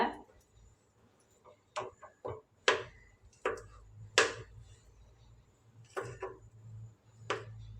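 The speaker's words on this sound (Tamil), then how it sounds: "இது மாதிரி சின்ன சின்ன பீஸாக கட் பண்ணி எடுத்துக்கோங்க" Ripe bananas cut into small pieces with a knife on a board for a sweet made with idli batter, giving irregular soft knocks and taps scattered through a quiet kitchen, some close and distinct, with no speech.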